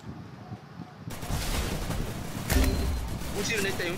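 Game gunfire rings out in an online multiplayer shooter: a few sharp shots and bursts over steady background noise, with a player talking over the action.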